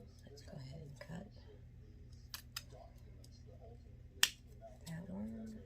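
Scissors snip through burlap ribbon in a few sharp, separate clicks, with one louder cut near the end, while a person talks softly throughout.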